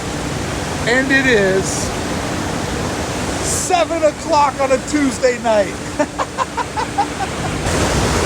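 A waterfall at Disney California Adventure on a rainy night gives a steady, loud broadband rush that runs throughout, while someone talks over it at normal volume.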